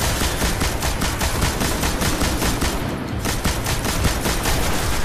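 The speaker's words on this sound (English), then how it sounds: "it's pretty easy if you're using a heavy machine gun" A heavy machine gun fires nonstop in the video game Destiny on PS4, a dense, loud stream of rapid shots with explosive impacts layered over one another throughout.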